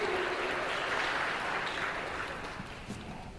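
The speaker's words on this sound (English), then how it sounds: "Let's have a huge round of applause." Steady, dense crowd applause fills a product launch event for Rhoss Gulf, sustained and fairly loud before slowly tapering near the end.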